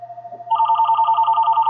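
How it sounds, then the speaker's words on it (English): A phone ringtone sounds loud and close, a steady electronic warble pulsing rapidly in a repeating pattern, with no voices. "And I'm getting a phone call."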